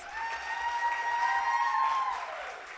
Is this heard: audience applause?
yes